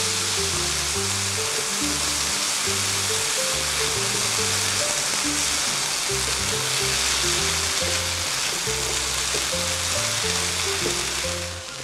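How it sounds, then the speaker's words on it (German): Tomatoes and onions frying in a pan for sauerkraut soup, a loud steady sizzle with constant crackle, carrying on unbroken under low background music with no speech. "Tomaten braten jetzt so schön vor sich hin hier"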